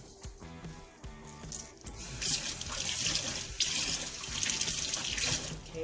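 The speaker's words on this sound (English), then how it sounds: "Then we're going to wash off our salad" Tap water gushes into a kitchen sink as salad greens are rinsed, a close, continuous splashing rush that swells louder partway through, with no voices.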